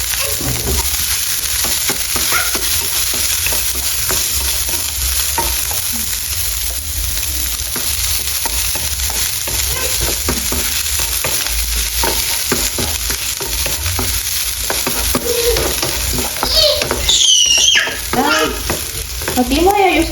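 Chopped onion sizzles in hot oil for an ampalaya (bitter gourd) dish in a home kitchen in Kenya, a loud, steady, close frying hiss with stirring scrapes throughout and a brief high-pitched squeal near the end.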